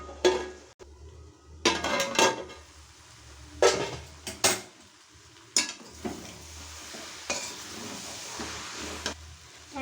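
Cabbage and chicken fry in a pan while being stirred, spatula scrapes and clanks against the metal repeating at irregular intervals over a soft steady sizzle.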